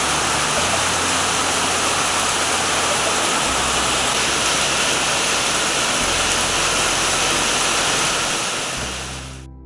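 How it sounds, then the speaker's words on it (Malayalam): Heavy rain falls outside, a dense, loud and unbroken rush with a low rumble beneath, steady throughout before cutting off abruptly at the end. "മഴ പെയ്യുന്ന ശബ്ദം കേട്ടപ്പോൾ ഒന്ന് പുറത്തേക്ക് ഇറങ്ങി."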